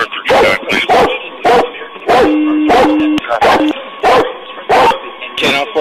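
A police dog barks in repeated loud, close bursts amid shouting at a traffic stop, while a steady tone, likely a siren or alarm, sounds in the background.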